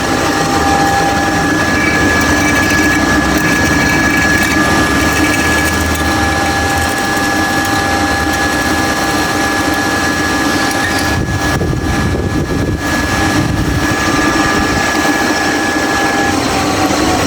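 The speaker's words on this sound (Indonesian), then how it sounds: "Ini namanya mesin giling. Salah satu penggunaan mesin ini adalah membuat lubang." A milling machine drills a hole through a workpiece, giving a loud, steady mechanical whir and grind that runs almost continuously for the full stretch, with a brief change in tone partway through.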